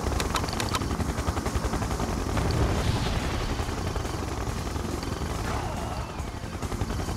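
Siege chopper helicopter in the video game Red Alert 2 Yuri's Revenge, a loud, continuous rotor drone mixed with rapid bursts of gunfire and booming impacts throughout, with no talk.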